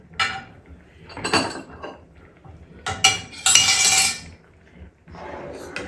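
Spicy couscous tomato soup being dished up, with cutlery and dishes clinking and clattering in several bursts across the clip, loud and close, with no talk over it.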